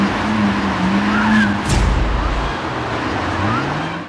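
A car accelerating hard on a street, its engine tone rising loud and close over steady road noise, with a brief squeal partway through.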